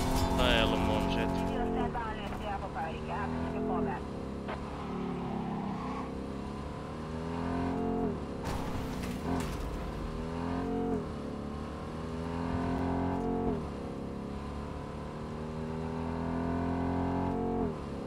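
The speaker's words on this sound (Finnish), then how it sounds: "Moottori jyllää, kulkaista voimaa." A car engine roars in the video game Cyberpunk 2077, with sustained revving and rising and falling pitch sweeps that run continuously under speech.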